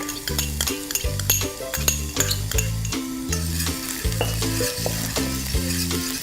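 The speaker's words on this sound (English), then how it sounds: "So we'll saute them together with the garlic." Onions and garlic sauté in hot oil, a continuous close sizzle broken by frequent scraping stirs of a utensil against the pan, with no voices heard.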